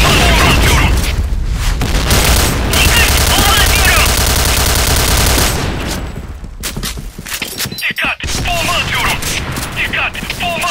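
Grenade explosion and gunfire in the video game Point Blank, dense rapid automatic fire and booming blasts, loud throughout, with bursts continuing after a brief drop, talk faintly underneath.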